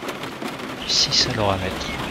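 Rain patters steadily in a Piper PA28 flight simulator cockpit, with a faint rumble of thunder underneath, while someone speaks over it.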